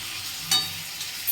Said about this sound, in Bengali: মা বলছে একটু কষাতে তাই জন্য কষাচ্ছে